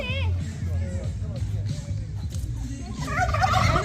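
Turkeys gobble in repeated warbling bursts at a visitor attraction where tickets are sold, fairly close and loud, with people talking and a background murmur of voices throughout.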